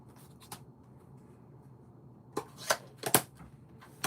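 Card paper being cut for Winnie the Pooh themed cards, a few faint crisp snips and rustles spaced irregularly, close and quiet with no talk.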